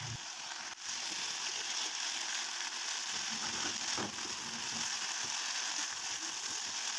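Fried eggplant stirred into sweet and sour sauce in a pan over a low flame, giving a steady, even hiss of sizzling throughout with no talk.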